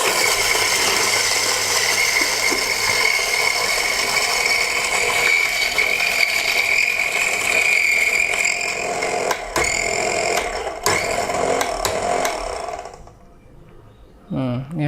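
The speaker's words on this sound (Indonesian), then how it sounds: "Nah, ini kita giling ya." A cheap coffee grinder runs continuously, a steady dense whirring and rattling grind that holds loud and even, then cuts off near the end with a brief clatter.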